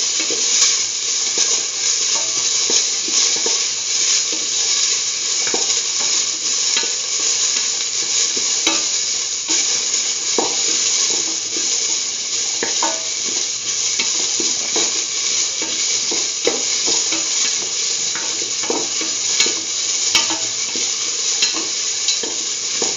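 Steady, loud sizzle of onion pieces frying with a spiced mixture for beetroot and green peas rice, with a utensil stirring and scraping the pan continuously throughout, no voices.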